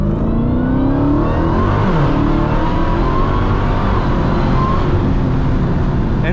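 A Dodge SuperStock Redeye Widebody accelerates hard, its engine a loud, deep, sustained roar with rising harmonic pitch, heard close from inside the car with no pauses.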